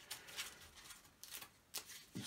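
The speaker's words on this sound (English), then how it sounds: "Let's give this a bit of a shuffle up." Playing cards from an Arkham Horror: The Card Game deck are shuffled by hand in a few quick riffling bursts, close and fairly quiet, with short pauses between them and no talk.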